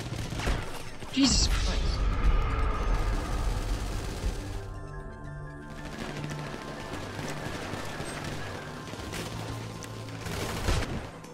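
Gunfire in Grand Theft Auto V, a loud shot early on followed by continuous game noise and rumble while a person exclaims briefly.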